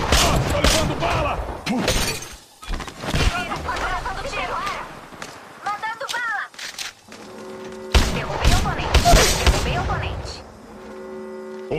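Gunfire in the video game Apex Legends, with bursts of shots and sharp impacts that come in irregular clusters, mixed with in-game voice callouts and effects.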